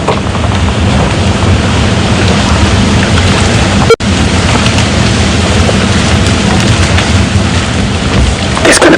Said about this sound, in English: the wind's gusting